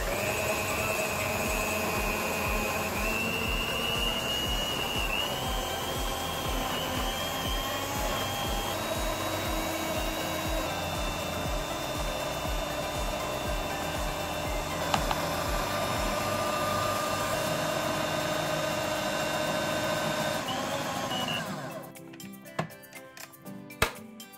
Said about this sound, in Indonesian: lalu kita mixer ya, pakai kecepatan paling tinggi